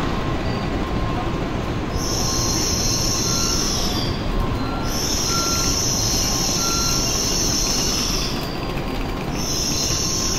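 Loud rumbling N700S Tokaido Shinkansen Kodama train pulling into Nagoya Station, high-pitched wheel squeals rising and fading repeatedly over continuous rolling noise.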